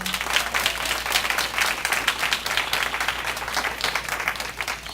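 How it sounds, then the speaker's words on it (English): An audience at a book club event applauds for a guest panelist, with dense, steady clapping from a sizable crowd that continues evenly throughout and carries no clear speech. "please give a big, big, big hand of applause for Mr. J.M. Benjamin."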